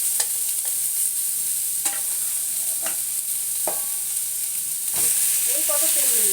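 Fish oil sizzles steadily in a pan with garlic, green chillies and sliced onions, a continuous frying hiss broken by occasional sharp spatters and the scrape of stirring, with no voices.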